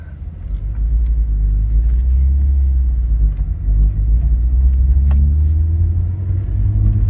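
A 2003-07 Honda Accord drives and speeds up, its engine a steady, loud low rumble with road noise that rises in pitch toward the end as the car accelerates.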